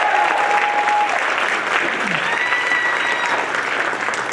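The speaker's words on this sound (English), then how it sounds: "Let's give them a huge hand clap." An audience at a poetry slam festival claps loudly and steadily from start to finish, with a dense, continuous roar of applause.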